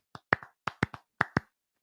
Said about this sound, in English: can we all give Sam a round of applause